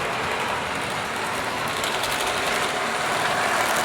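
A Kestrel HS4000 prototype model locomotive runs past on a layout with a steady, close mechanical whirr and rapid clicking of wheels over rail joints, unbroken throughout.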